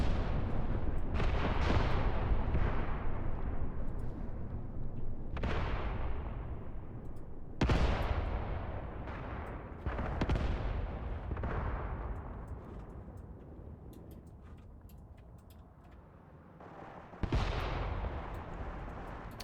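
Artillery in the WWII-era Graviteam Tactics game lands in a series of heavy booming blasts, each one followed by a long rumbling decay, over a constant low battlefield roar, with no voices.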